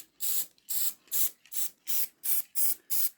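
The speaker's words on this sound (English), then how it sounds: "Quick spray." Eight short aerosol spray bursts misted over model railway track ballast, each a bright hiss of about a third of a second with brief gaps between, steady and fairly close.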